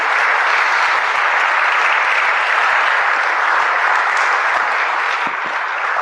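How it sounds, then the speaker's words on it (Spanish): Church congregation applauding, a dense, steady wash of clapping that stays loud and even for the whole stretch, with no voices breaking through. "Denle un aplauso al Señor."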